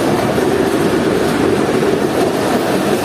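A train rumbles steadily on the railway line near Kasur Junction as it reverses, a dense continuous roll of wheels and carriages, loud and close throughout with no voices.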